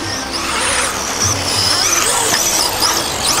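A Tekno EB410 RC buggy with a HobbyWing ESC at full throttle, a high whining motor rising and wavering as it struggles for traction, loud and close.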